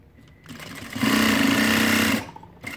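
A Juki DDL-8700H industrial sewing machine stitching through paper with #138 thread runs up to a fast, loud steady whir for about a second before winding down, heard close and alone.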